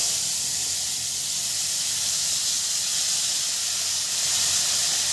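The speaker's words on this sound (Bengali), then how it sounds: "সমস্ত সবজি এবার আমি একটু ভেজে নেব" Vegetables frying in fish oil in a pan, heard as a continuous bright sizzling hiss at a steady level from start to finish, close and with no talking.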